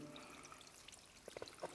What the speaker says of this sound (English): it's probably just fresh water running through a natural spring